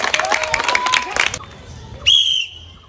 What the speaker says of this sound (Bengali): সবাই একটা হাততালি বাজানোর জন্য।